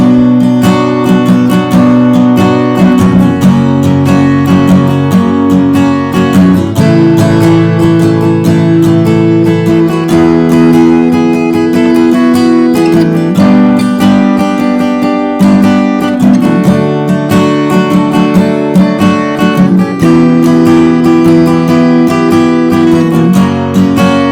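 Steady strummed chords ring out from an acoustic guitar, loud and close, with a regular rhythm and changing chords throughout, no voice.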